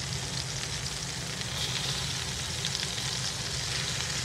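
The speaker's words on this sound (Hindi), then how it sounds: "ये बिल्कुल क्विक फ्राई जैसा तला जाएगा।" Eggplant slices shallow-frying in hot oil with carom seeds, a dense, even crackling sizzle that runs steadily throughout, close and loud.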